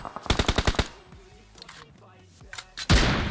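A burst of rapid automatic gunfire from PUBG Mobile, about six sharp shots in quick succession, followed by a couple of scattered single shots, loud and close.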